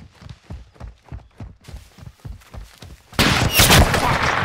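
Gunfire in Call of Duty Modern Warfare 2 from a sniper on a rooftop: a steady run of evenly spaced thuds, then a sudden loud, sustained blast of noise takes over near the end.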